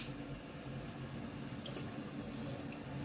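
Steady liquid pouring into a pot of pickled cucumbers with chili ketchup, with a continuous watery hiss and low bubbling, close by, with no voices.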